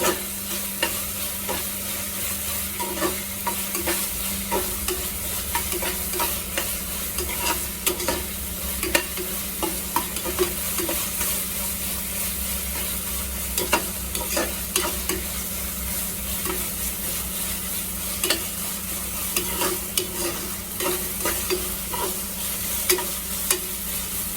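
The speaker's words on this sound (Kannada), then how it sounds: "ಶುಂಠಿ ಬೆಳ್ಳುಳ್ಳಿ ಹಸಿ ಸ್ಮೆಲ್ ಹೋಗೋ ತನಕ ಈ ಥರ ತಿರ್ಸ್ಕೊಡ್ತಾನೆ ಇರಿ." Ginger and garlic frying in a pan give a steady close sizzle, with repeated scraping and clinking from stirring throughout and no talking.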